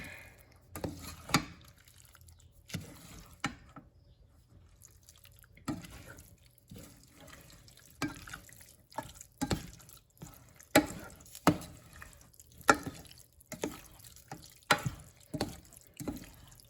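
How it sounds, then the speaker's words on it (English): Sauce goes into a pot for lasagna and is mixed in: sparse, quiet drips and light spoon clinks come at irregular intervals in a quiet kitchen, with no talk. "I'm gonna pour in the sauce. I'm gonna start with that much, and I'm gonna mix that in."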